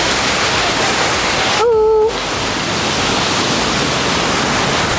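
Curug Jenggala, a waterfall on the slopes of Mount Slamet near Purwokerto where several small streams meet, gives a loud, steady rushing roar that a brief, wavering tonal sweep interrupts for about half a second.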